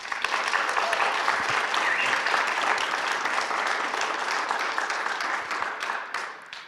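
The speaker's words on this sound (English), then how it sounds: "So we're going to give him a great round of applause and let him start the panel" At CPAC, an audience gives a sheriff a dense, sustained round of applause that fills the hall at a steady level and then tapers off near the end.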